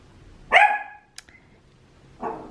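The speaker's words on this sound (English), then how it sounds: "I'm gonna wait for my puppy to settle down." A puppy barks indoors, one loud close yip followed by a faint click and then a second, softer bark, with quiet between them.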